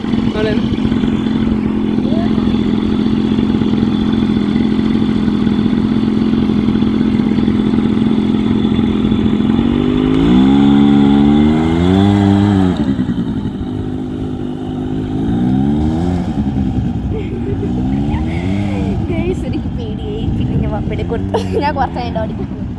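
A rented quad bike engine in the desert runs loud and steady, then revs repeatedly with rising and falling pitch. People talk over it throughout.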